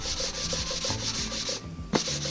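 Fine P240 sandpaper rubs steadily along a handmade wooden longbow in a continuous close-up hiss with soft rhythmic strokes, ending in a brief knock.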